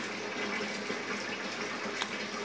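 A small pond pump sprays water through a beer bottle washer, running both sides at once, giving a steady, close, continuous hiss and rush of spraying water without pauses.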